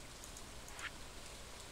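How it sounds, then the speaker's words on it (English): Steady, soft rain falls in Stardew Valley, a faint continuous hiss with a few tiny droplet-like ticks. "it's raining all day"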